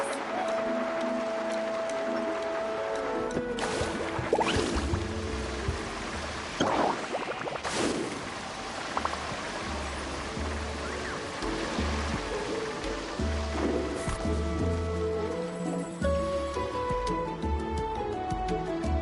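Rushing water and splashing while surfing over waves in Genshin Impact, a steady loud wash with a few sharper splashes and a soft musical tone underneath.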